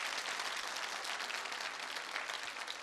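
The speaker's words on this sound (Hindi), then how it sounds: "तालियां जोरों से बजनी चाहिए।" An audience at a Holi quiz show claps loudly and steadily, a dense burst of close applause with no talk over it.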